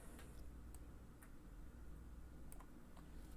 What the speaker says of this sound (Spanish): este clic de este mouse me lo está volando ya